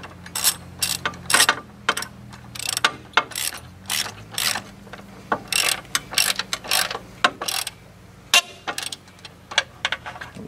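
A ratchet wrench torques bolts on a steering box frame brace on a 1991 GMC Jimmy, sharp clicking ratchet strokes coming in rapid bursts close by, with a low mechanical hum underneath at first.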